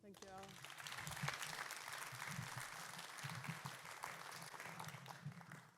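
Steady audience applause for a singer-songwriter at a Pride event, a dense even patter that holds for several seconds, faint and somewhat distant, with voices underneath.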